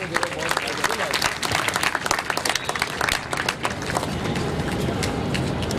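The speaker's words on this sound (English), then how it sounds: "Please welcome the speakers with a huge round of applause." Loud audience applause at a literary festival panel welcoming the speakers, dense continuous clapping from a large crowd with some murmuring voices mixed in.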